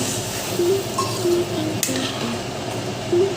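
Fish curry being stirred in a pot, with soft scraping and occasional clinks of a metal spoon against the pan over a low simmer.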